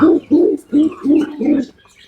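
A pair of pigeons coo up close in a repeated rhythmic series of low, throaty calls with short pauses between them.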